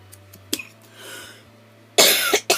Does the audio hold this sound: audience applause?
no